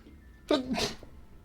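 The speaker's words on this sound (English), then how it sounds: "Oh dear, I sneezed on the video." A single sharp human sneeze, close to the microphone and fairly loud, bursting out after a moment of quiet and tailing off quickly.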